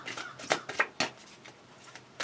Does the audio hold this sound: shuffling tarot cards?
yes